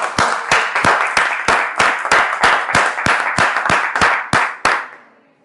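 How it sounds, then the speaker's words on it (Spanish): A small audience at an economics talk claps in unison for an arriving guest, a loud rhythmic beat of sharp synchronized claps at an even tempo that slows and stops, ending in silence. "pido un gran aplauso para su presencia"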